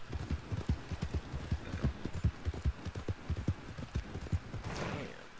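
Horse hooves clip-clop steadily in Red Dead Redemption 2, a fast regular gallop of close, loud hoofbeats that runs the whole time, with a brief whoosh near the end.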